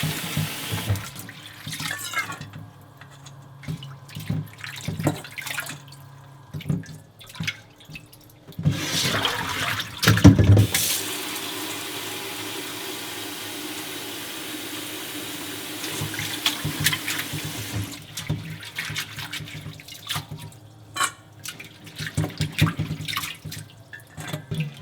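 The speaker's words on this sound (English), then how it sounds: "When you wash soybean sprout," Soybean sprouts rinsed in a vegetable pan under a running kitchen tap, with steady splashing and gushing water, brief bursts then a sustained loud flow, close by and without talk.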